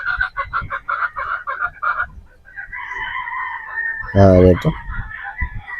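Boston gamefowl roosters at a game farm crow repeatedly, one loud close crow ringing out near the end over other birds calling in the background, while someone talks over the opening seconds.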